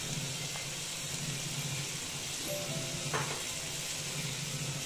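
Fried soya chunks go into a pan with boiled potatoes and are sautéed, making a continuous low sizzle and frying hiss with a faint scrape or two, close and even.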